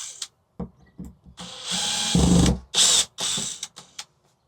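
A power drill backs a screw out of the wall of a cargo trailer, running in several short whirring bursts with brief pauses between them, close and fairly loud, ending in quiet.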